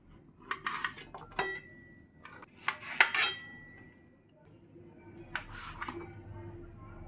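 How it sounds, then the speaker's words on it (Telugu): A knife cuts okra on a board for sambar, giving a few scattered sharp taps and clicks with gaps between them, faint and close, with a quiet background. "ఇప్పుడు ఫస్ట్ బెండకాయ కట్ చేసుకుందాం"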